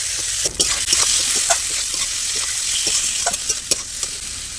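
Chopped tomato hits hot oil spiced with salt, turmeric and Kashmiri chili powder for a jackfruit curry, setting off a loud, continuous close sizzle with scattered sharp crackles and a few utensil taps.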